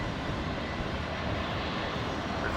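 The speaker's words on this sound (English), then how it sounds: "There's one of the Qantas Link E-Jets just arriving, just about to turn left and park on the Qantas satellite." A QantasLink Embraer E-Jet taxiing in after landing at Brisbane airport, a steady, broadband engine roar holding at an even level throughout, with no voices.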